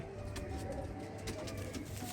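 Pigeons coo softly and steadily in a loft, with faint wing flutters and scattered chirps over a low background hum. No one speaks.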